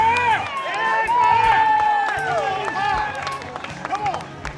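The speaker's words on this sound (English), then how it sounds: "So, I need a good amount of cheer." A crowd at an outdoor Dog of the Day presentation during a criterium bike race cheers and claps for a year-and-a-half-old Golden Retriever, a steady roar of voices and applause with shouts rising near the middle.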